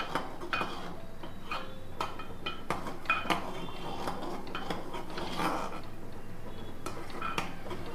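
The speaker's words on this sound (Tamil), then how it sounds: "ஒரு கையால் கொட்டிகிட்டே அப்படியே மெதுவாக கொட்டிகிட்டே கலர வேண்டியது தான்." Semolina (rava) poured into boiling water and stirred in a pot for Thiruvathirai kali, with a spoon clinking and scraping against the metal pot in irregular close strikes over a soft bubbling bed.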